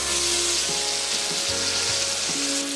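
Brinjal pieces hit hot oil in a pan for a brinjal and tomato curry, giving a steady, close, broadband sizzle of frying that holds evenly throughout, with faint low hums underneath and no talking.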